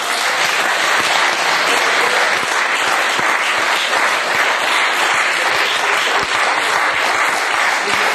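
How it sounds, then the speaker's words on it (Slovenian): Loud, dense audience applause rings through a music school hall at an evening talk, a sustained wash of many hands clapping close and evenly for the whole stretch, with no speech over it. "Hvala lepa za aplavz"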